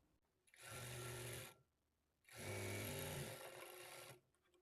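A sewing machine stitches a blouse lining in two bursts, each a steady buzzing run of about a second and a half or more, with a brief pause between them.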